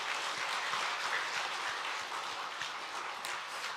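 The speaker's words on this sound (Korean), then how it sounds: "박수하겠습니다." A church congregation at a Korean Methodist Christmas service applauds, steady dense clapping from many hands at a moderate distance that holds evenly for several seconds, then begins to taper.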